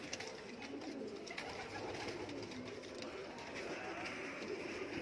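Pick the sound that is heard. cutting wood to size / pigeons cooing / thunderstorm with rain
pigeons cooing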